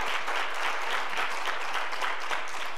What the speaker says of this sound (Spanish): que no se merece el Señor un fuerte aplauso por todo lo que Él hizo por nosotros